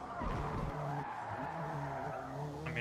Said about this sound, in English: I just drifted a front-wheel drive car.